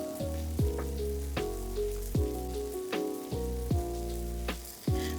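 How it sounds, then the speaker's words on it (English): Onions, garlic and cherry tomatoes sauté in a pan, a steady close sizzle and crackle broken by repeated soft stirring and scraping strokes, with no talking. "Saute the onions 3 to 4 minutes until soft."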